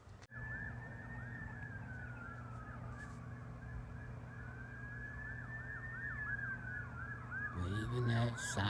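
Emergency vehicle sirens on country roads wail in long rising and falling sweeps, faint and distant under outdoor ambience, with a brief louder rustle near the end.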